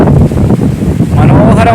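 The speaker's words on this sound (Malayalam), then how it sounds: "കാറ്റടിച്ച് സൈക്കിൾ പൊങ്ങുവാണ്" Strong wind buffets a loaded bicycle on the road, a loud, steady roaring rumble with gusty swells throughout and a faint voice beneath it.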